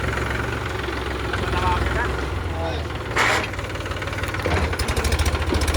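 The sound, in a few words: tractor engine, tractor loaded with sand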